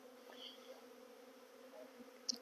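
Honey bees buzz around hives set aside on a farm during a honey harvest, a faint, steady hum with a few brief closer passes, no talking.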